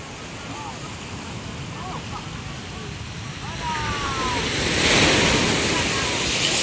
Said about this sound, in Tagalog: Grabe ang alon